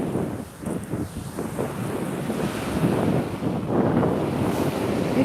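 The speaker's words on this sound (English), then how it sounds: "there's a bit of wind around" Wind blowing at the seashore, gusty rumbling buffets against the microphone with surf and waves washing behind, loud and continuous with no talking.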